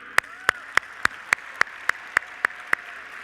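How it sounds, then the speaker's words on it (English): At the 92nd National FFA Convention & Expo, ten sharp, evenly spaced claps ring out in a slow, steady rhythm. Each clap is crisp and distinct against a quiet background. "Let's get one more round of applause for Dr."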